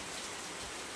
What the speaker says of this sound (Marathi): बघ्या पाऊस आला पाऊस आला